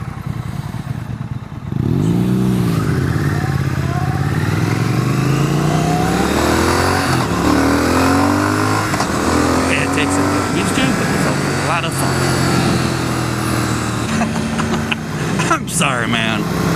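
Triumph Thruxton motorcycle engine pulling through rising revs under acceleration, a steady loud mechanical drone with wind rush on the road, and clatter near the end.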